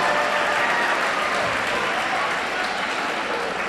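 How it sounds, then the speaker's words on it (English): An audience at a school Idol singing competition applauds a choir's warm-up performance, a continuous, even roar of many hands clapping from start to finish with little variation. "One more round of applause for our choir."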